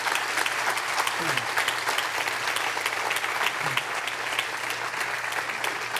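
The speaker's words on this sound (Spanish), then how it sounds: "Damos un aplauso fuerte por la vida de estos dos varones." Steady applause from a church congregation fills the whole stretch, dense and even clapping with a faint low hum beneath it.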